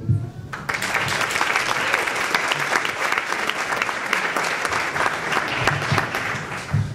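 An audience at a regional Hispanic institute honors event bursts into applause after a brief spoken moment, holding a dense, steady, loud round of clapping with occasional sharper claps up close.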